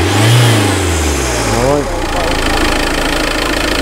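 Land Rover Puma diesel engine, shared with Peugeot, revs up loudly, then drops back to a steady, knocking idle, close by, with someone talking briefly over it.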